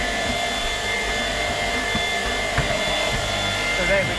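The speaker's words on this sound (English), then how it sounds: "I don't know if people will hear you over the Hoover." Shark Power Detect vacuum cleaner running at close range, a loud continuous whooshing roar with a steady whine, a voice faintly audible beneath it.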